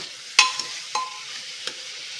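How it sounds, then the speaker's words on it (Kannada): Mutton with turmeric fries in a pan for drumstick mutton saaru: a soft continuous sizzle is broken by a few sharp stirring scrapes, heard close with no talk. "ಸ್ವಲ್ಪ ಫ್ರೈ ಮಾಡ್ಕೊಳ್ಳೋಣ. ಚೆನ್ನಾಗಿ ಫ್ರೈ ಆದರೆ ಟೇಸ್ಟಿಯಾಗಿರುತ್ತೆ."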